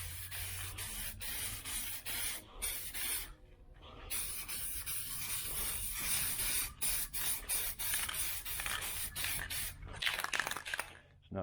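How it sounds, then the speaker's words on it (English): A nearly empty aerosol can of Hugger Orange spray paint hisses in repeated short bursts during restoration work on a 1972 Chevy Nova, the spray sputtering and uneven, with brief gaps and faint background noise. "It's not spraying real good."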